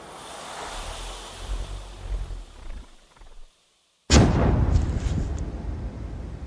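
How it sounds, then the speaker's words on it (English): A grenade thrown over a mud wall bursts with a sudden loud blast after a brief silence, followed by a rumbling roar and debris that linger; a softer windy wash precedes it. "the soldiers can't see the explosion"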